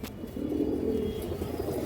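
A female pigeon with a large crest coos in a low, steady, continuous rumble, close by and alone.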